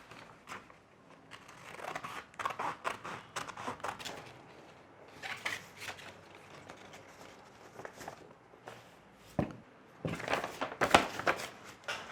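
Scissors cut out a sanitary pad shape from material, giving a string of soft, close snips and crunches that come in uneven clusters, with some shuffling and handling noise between the cuts.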